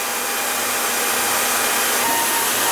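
A Roidmi Neo cordless wet and dry vacuum cleaner runs with a loud, steady motor whine and airy suction rush, unchanging and close throughout.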